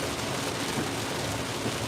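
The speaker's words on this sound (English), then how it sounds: "Oh, rain. It's raining crazy," Heavy rain falls on a 2017 Jeep Cherokee on a road trip, a dense, constant roar of drops drumming on the vehicle with no pauses and no voices.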